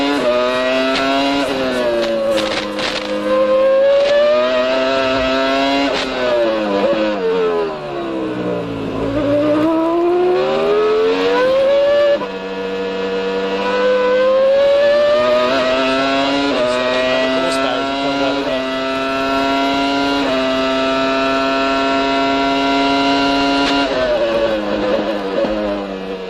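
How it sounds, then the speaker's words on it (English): A 1999 Formula 1 Minardi with a Ford engine screams loudly and continuously at high revs, its pitch dropping and rising through gear changes and corners, with a faint commentator's voice beneath. "pulling back in line as he goes as well in the Minardi. Now they're running a Ford engine that Jackie Stewart ran last year."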